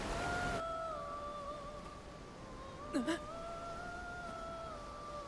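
A siren sings in the Visions of Mana video game: two sustained, gently wavering high tones carry through, broken by a brief warbling burst partway, over a quiet background.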